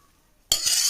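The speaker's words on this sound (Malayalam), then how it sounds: "പാൻ ഇപ്പം നല്ല പോലെ ചൂടായി വന്നിട്ടുണ്ട് നമുക്ക് ഇതിൽ നിന്ന് ഒരു തവി ഇതിലേക്ക് ഒഴിച്ചു കൊടുക്കാം" Ragi dosa batter ladled onto a hot pan sets off a sudden, loud sizzle after a quiet moment, the frying hiss continuing steadily and close up.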